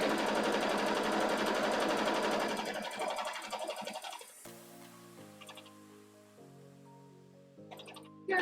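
A sewing machine stitches soft fabric in a steady, close, rapid whir for several seconds, then stops. Faint tonal chimes and a few brief clicks follow in the quiet.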